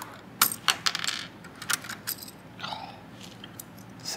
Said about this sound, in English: Okay, so we've got a couple of keycaps off.